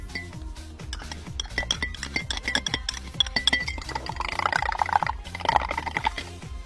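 A spoon clinks steadily against the side of a bowl in quick, repeated taps, with a soft swirl of liquid as it's stirred.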